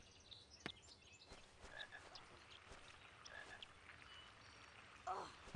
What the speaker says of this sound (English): I hear a frog, actually.